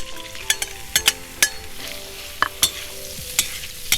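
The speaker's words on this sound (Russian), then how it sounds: "И следующим сразу же отправляем сюда зажариваться лук." Onions frying in a kazan over a campfire: a steady soft sizzle with sharp crackles and pops scattered throughout, close and moderately quiet, no talking.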